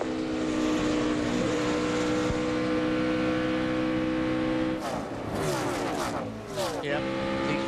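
A stock car in a 2006 NASCAR Busch Series race at Charlotte, its engine droning at a steady pitch down the straightaway and then sagging as it loses power, with an announcer talking over the continuous roar.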